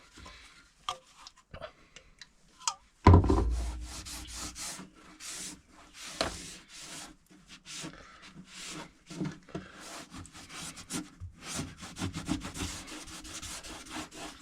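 Rag scrubbed by hand against a race car part, uneven bursts of close rubbing and scuffing strokes with short pauses between them.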